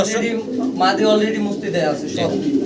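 Pigeons coo in a loft, with repeated throaty calls heard close by while someone talks over them.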